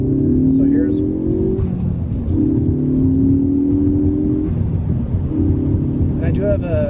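A 2014 Ford Focus ST with a resonator delete and a K&N Typhoon cold air intake drives along, its exhaust droning and rising through revs in loud pulls, with a voice talking over it.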